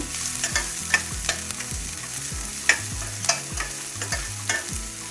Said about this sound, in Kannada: ಒಂದು ಎರಡು ಉಳ್ಳಾಗಡ್ಡಿನ ಚೆಂದಾಗಿ ಕಟ್ ಮಾಡಿ ಇಟ್ಕೊಂಡಿದ್ದೆ ಅದನ್ನು ಹಾಕ್ತಾಯಿದ್ದೀನಿ ಹಾಕ್ಬಿಟ್ಟು ಫ್ರೈ ಮಾಡ್ಕೋಬೇಕು